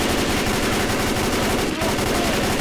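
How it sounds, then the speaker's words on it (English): A machine gun fires in fast, continuous bursts in the video game Left 4 Dead 2, loud and dense throughout the short stretch. "Oh, there's a machine gun in here."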